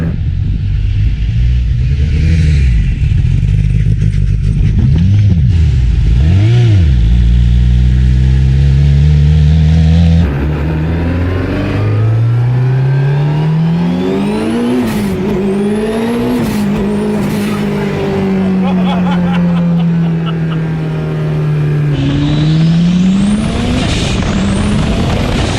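Ken Block's car engine roars close and loud while driving, revving up and down through repeated gear changes with rising and falling pitch and a rumbling low end throughout.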